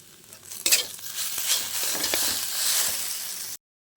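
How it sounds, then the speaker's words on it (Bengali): Vegetable chop filling being stirred and scraped in a hot pan after ground spice is sprinkled over, a steady close sizzle with scraping strokes that stops abruptly near the end, no voices. "এই মশলাটাকে এখন আমি উপর থেকে ছড়িয়ে দেবো, দিয়ে একটু নেড়ে চেড়ে নামিয়ে নেব।"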